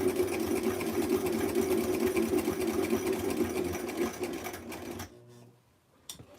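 A sewing machine fitted with a walking foot stitches a seam through checked fabric for a tiny 1963 vintage Barbie doll square dancing outfit, running loud and steady for about five seconds before stopping, followed by quiet handling sounds.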